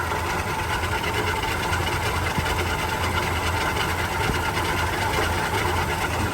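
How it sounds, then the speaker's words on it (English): A 1959 Chevrolet 3100 pickup's old six-cylinder engine runs steadily and close by, a continuous low rumble with an even, fast ticking pulse that holds unbroken throughout, with no talk over it. "let's take a listen to the engine"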